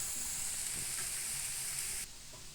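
Sooji (semolina) chikki mixture cooks on a stove with a steady, loud bubbling hiss that drops sharply quieter after about two seconds, with no voices.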